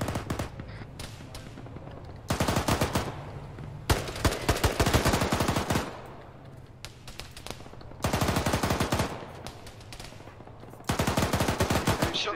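Bursts of automatic and single gunfire in Arma during a British Foreign Legion campaign mission in Mali, coming in repeated loud volleys separated by short lulls, with a low engine rumble underneath.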